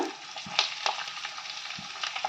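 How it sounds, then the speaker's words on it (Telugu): Onion and curry leaves crackle and sizzle steadily in a hot pan for Telangana-style attu thunakala fry, with a few sharper spits and stirring scrapes, close and without talk. "కొంచెం కరివేపాకు ఉల్లిగడ్డ ఒక కప్పు ఉల్లిగడ్డ వేసుకోవాలి"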